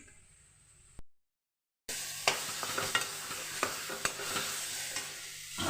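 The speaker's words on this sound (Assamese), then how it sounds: "পনীৰ ইয়াতে ভাজি থৈছোঁ।" Paneer frying in oil in a home kitchen pan while being stirred, a steady close sizzle with scraping spoon strokes, after a short silent gap.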